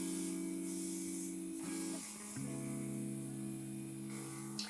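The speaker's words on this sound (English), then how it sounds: "I'm gonna apply more pressure to the trigger here to get more spray on my cheekbones" A TEMPTU airbrush makeup kit sprays steadily with the trigger pressed harder, giving a continuous close hiss alongside a whining compressor tone that dips briefly mid-way and then resumes.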